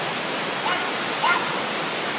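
Rushing waterfall at Manicourt falls, a steady dense roar of falling water filling the whole short stretch evenly, close and loud, with only faint brief sounds above it and no clear talk.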